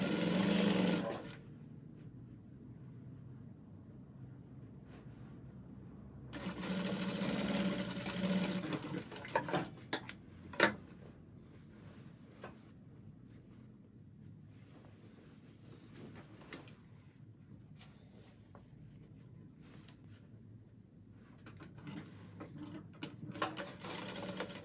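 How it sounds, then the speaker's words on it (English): A sewing machine runs in steady stretches, stitching a pocket onto a skirt, with a whirring hum, pauses between runs, and a few clicks and handling bumps. "stitch the pocket just the way we usually stitch pockets. So just stitch it on top of the flay"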